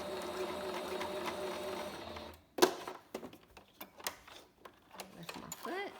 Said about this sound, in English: So I'm gonna keep stitching all the way to the end.